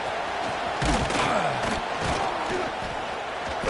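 Stadium crowd in a football video game roaring and cheering in a steady, dense wall of noise, with shouts and a few thuds rising out of the mass of voices.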